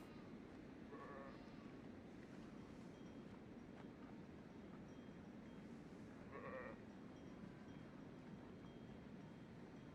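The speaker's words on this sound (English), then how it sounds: "Some rams." Rams bleat faintly on the campaign map of the Bannerlord beta, two short calls standing out over a steady ambient background hum.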